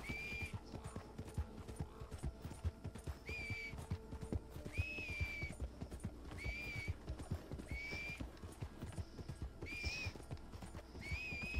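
Hooves clip-clop in a quick, steady rhythm as a horse trots in the Red Dead Online video game, with several high whinnies rising above the hoofbeats at intervals.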